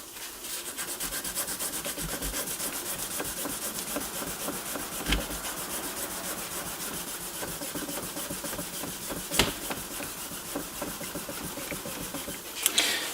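Rolled sandpaper spun by a drill inside the tube of a 1939 NuTone Model B two-note door chime makes a continuous rough rubbing and sanding noise at close range, broken by a few sharp knocks.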